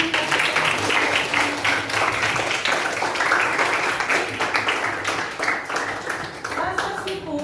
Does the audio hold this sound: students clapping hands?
yes